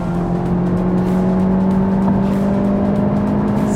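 A turbocharged Honda Civic Type R FK8, with 400 Newton meters of torque, accelerates hard with a loud, steady engine drone and rising whir that continue without a break and without talking.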